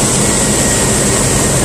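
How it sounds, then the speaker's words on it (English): A car engine runs with the AC on max and the fan all the way up, while the A/C compressor is stuck and not running. A loud, steady, even roar fills the whole stretch with no voices. "start the engine, and turn the AC on max AC with the fan all the way up"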